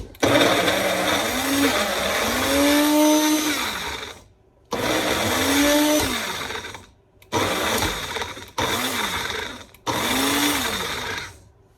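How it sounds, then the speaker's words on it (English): A blender whirs loudly in several bursts, its motor pitch rising and dipping as it churns a thick baby-food purée made with breast milk, with short silent pauses between runs. "I don't know why it doesn't sound like it's blending that well."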